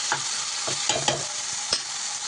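Tomatoes frying in a pan with ginger garlic paste, a steady sizzle carrying through, broken by several short scraping stirs of a spoon against the pan.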